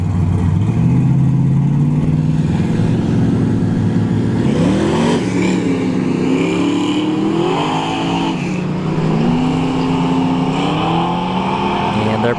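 Drag racing cars, including a big-wheel G-body, roar down a dragstrip, engines rising through gears in a loud, sustained howl with rising pitch sweeps, heard from trackside.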